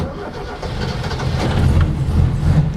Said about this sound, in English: Starter motor's a bit dicky, but I'm guessing that's because it hasn't been used very often.